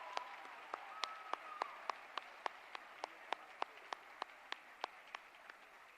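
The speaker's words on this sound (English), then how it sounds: "let's give them one more round of applause." Sparse, slow claps at a senior awards night, about a dozen distinct hand claps spaced evenly and fairly faint in a quiet hall.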